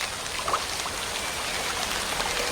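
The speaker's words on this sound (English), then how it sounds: "It usually only rains once a day," Rain falls in the Amazon rainforest, a steady soft patter and hiss of drops on leaves and surfaces, continuous and moderately close.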